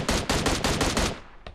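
Automatic gunfire in PUBG Mobile rattles off as a rapid burst of about seven loud, close shots, followed by a short pause and one final shot.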